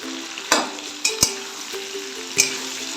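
Winter vegetables frying in a pan, with a steady close sizzle broken by several sharp clinks and scrapes of a spatula against the metal.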